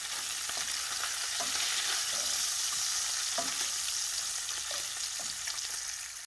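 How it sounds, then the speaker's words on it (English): Bacon crisping in a pan gives off a steady, dense sizzle with soft crackles and pops, close and even throughout, with no talk. "I'm just gonna get this bacon nice and crispy"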